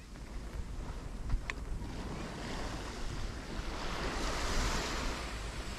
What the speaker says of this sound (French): Et ici ça reste quand même une plage.